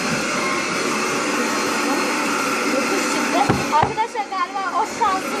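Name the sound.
vacuum cleaner running in another room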